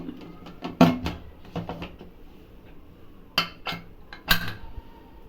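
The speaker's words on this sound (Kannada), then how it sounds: "ಕುಕ್ಕರ್ ಮುಚ್ಚಳ ಮುಚ್ತಾ ಇದ್ದೀನಿ" A pressure cooker lid is closed over mixed sprouts sambar in a home kitchen: a series of sharp, close metallic clinks and clacks in irregular bursts, with quiet pauses between.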